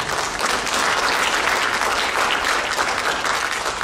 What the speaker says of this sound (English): Give them a big clap because they're gorgeous